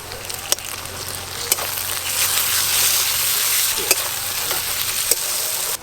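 Ginger-garlic paste hitting hot ghee with reddish-fried onions in a village kitchen, a steady close sizzle and frying hiss with a few sharp stirring clicks and scrapes, no voices.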